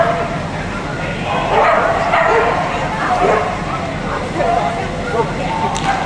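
A Tibetan dog outdoors among weeds gives a run of yips and bow-wow barks at moderate distance, mixed with whimpers, against a busy, noisy background.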